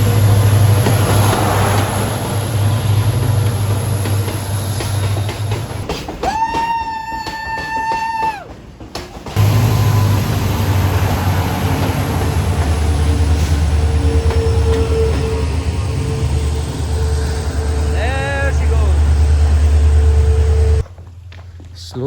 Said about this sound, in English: So we're just waiting for the train to pass by and then we'll head into the tunnel.